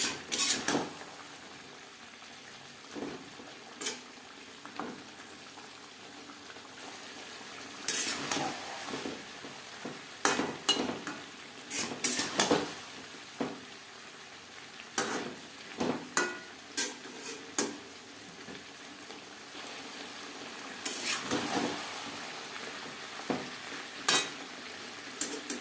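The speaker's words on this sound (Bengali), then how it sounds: "আলু ফুলকপিও মশলার সাথে বেশ ভালো করে মিক্সড করে দেবো। হাই টু মিডিয়াম ফ্লেমে 4-5 মিনিট নাড়াচাড়া করে নেব।" Potatoes and cauliflower with spices are stirred in a pan over a high to medium flame: close, irregular clinks and scrapes of a utensil against the pan, arriving in clusters over a faint sizzle, with no talking.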